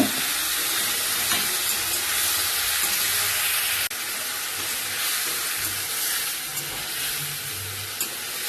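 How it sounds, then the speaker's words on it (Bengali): Cauliflower frying in a pan with ground spice paste gives a loud, steady sizzle and crackle that runs unbroken throughout, close by with no voices. "ফুলকপি লাল লাল করে ভাজা হয়ে গেছে। এবার এই মশলাটা দিয়ে দেবো, যেটা বেটে রেখেছি"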